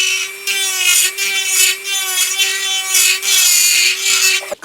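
A rotary dental bur trims the back of an acrylic denture during an All-on-4 benchtop conversion, giving a steady high-pitched whine with gritty grinding pulses that rise and fall as it presses into the material, loud and close, with no talking.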